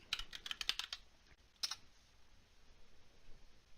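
Quick keystrokes on a computer keyboard entering a Linux update command, a rapid cluster of close, crisp clicks over the first second, then one more tap after a pause before it falls quiet.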